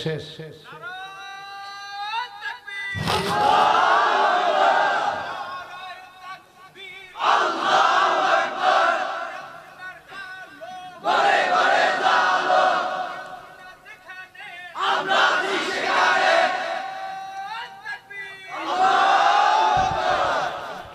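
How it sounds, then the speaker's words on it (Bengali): A large crowd at an outdoor Islamic waz gathering in Feni, Bangladesh shouts the takbir in loud unison, four strong bursts of chanting spaced a few seconds apart. "জোরে একটু তাকবীর দিয়ে বলেন আল্লাহু আকবার"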